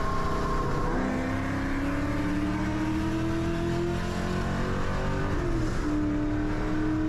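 A 4.6 Ford Mustang launches down a drag strip, its engine note sweeping upward in pitch, then breaking at a gear change and climbing again; the run is loud and close.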